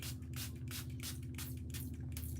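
Rhythmic hissing bursts of setting spray misted onto a face, about eight quick pumps in a row, close and clear over a steady low hum, with no talking.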